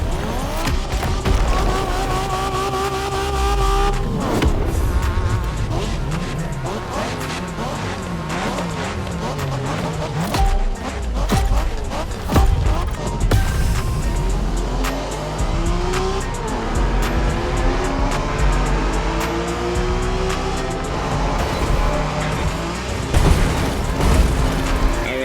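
Engines roar loudly through a street race in The Crew Motorfest, with shifting revs, repeated tire squeals and skids, and a few thuds over an energetic music-laden mix.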